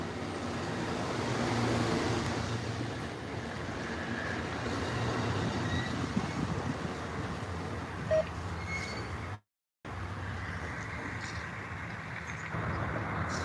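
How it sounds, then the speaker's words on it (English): Westbound Amtrak California Zephyr pulling out of the Ottumwa, Iowa station, a steady broadband rumble of rolling cars and wheels heard from on board, fairly distant and even, with a brief dropout partway through. "our train, the westbound California Zephyr, has departed the station here in Ottumwa"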